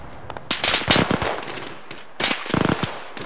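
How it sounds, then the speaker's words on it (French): Gunfire in the military shooter ArmA 3: two clustered bursts of sharp, rapid shots, loud and close-sounding, separated by a short lull, with no talking. "Ah ouais, ça tire."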